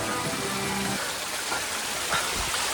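Rain falls during a trek up Raigad Fort, a dense, steady wash of noise with no break, with a few faint taps and thumps mixed in.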